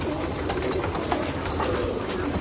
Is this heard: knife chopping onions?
no